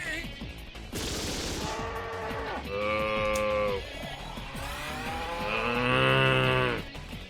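Cattle moo loudly in the Shin Megami Tensei: Digital Devil Saga 2 video game. Several drawn-out, overlapping lowing calls come one after another over about seven seconds.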